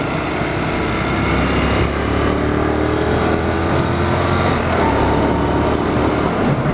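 2017 Honda NC750S motorcycle engine pulling through the gears toward its 6,000 rpm redline, a steady loud engine drone with wind rush heard from the rider's position, with a brief dip around a shift near the end.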